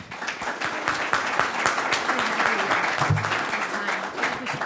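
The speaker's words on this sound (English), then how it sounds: "a quick round of applause for Sean." Conference audience gives a round of applause, a dense wash of many hands clapping at moderate distance that holds steady for several seconds without talk over it.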